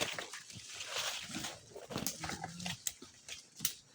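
A dog whimpers and grunts in a few short, faint bursts, with quiet background noise between them.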